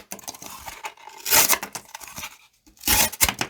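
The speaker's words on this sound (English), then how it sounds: "And let's close it up with some box cutting." A Civivi Anaaki lightweight folding knife slices through a cardboard box, giving two loud ripping, tearing strokes separated by quieter scraping and rustling.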